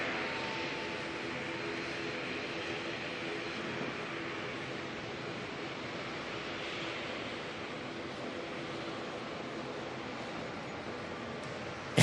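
A Dash 8 turboprop bound for Nelson makes an intersection departure from Auckland Airport, a continuous engine drone heard at moderate distance that holds steady for the whole stretch without voices.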